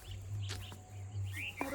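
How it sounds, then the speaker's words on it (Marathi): Birds chirp in short, faint calls near Aruna dam in the Konkan countryside, with a few scattered tweets and a brief trill over a low steady background hum. "असं पक्ष्यांचं वगैरे आवाज येतं"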